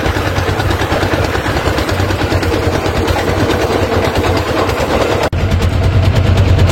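A motor boat's engine drones steadily while cruising on a river around a bridge in the afternoon, a loud, close, continuous rumble with no talking.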